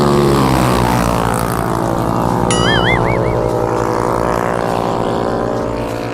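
Loud, continuous engine drone of street racer motorcycles revving nearby in Thailand with a whining rise, steady and sustained throughout, fading slightly at the end.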